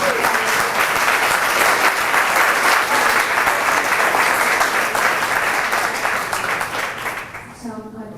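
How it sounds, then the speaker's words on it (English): Sustained applause from a church symposium audience honoring a parish congregation, dense and steady clapping that fades slightly near the end as a voice begins. "Another round of applause for Calvary."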